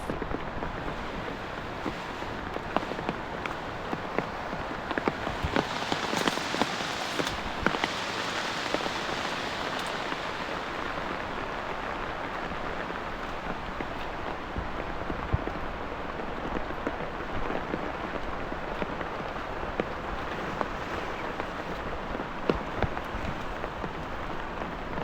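Very heavy rain falls in the wild outside a rock shelter, a continuous roaring patter of drops on rock and leaves that stays steady, with a few louder splashes and no voices.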